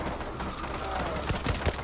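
Rapid gunfire in the shooter game World War Z Aftermath, a dense busy mix of shots with a few sharper bursts near the end, heard under and around voices talking.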